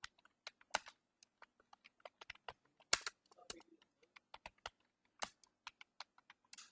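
Keys on a computer keyboard are struck to type a subtitle into a PowerPoint slide, making sparse, irregular clicks and quick bursts of taps, close and crisp over near silence.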